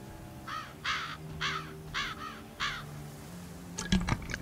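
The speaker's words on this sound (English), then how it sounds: "Brother Raven's paying us a visit, saying hello" A raven caws five times in a slow, evenly spaced series in the Project Zomboid video game, clear and moderately close, followed by a brief burst of clattering sounds.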